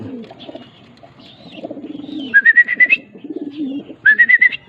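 Racing pigeons call near the loft in a game race: rising whistled notes repeat in two quick bursts over low, murmuring coos and background voices.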